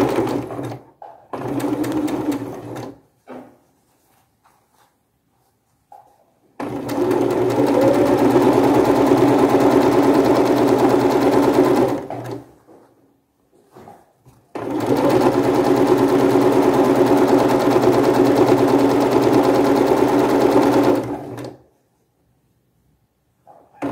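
A sewing machine stitches fabric scraps, backstitching in between, in bursts: a few short runs, then two long steady whirring passes of several seconds each, separated by pauses and quiet handling.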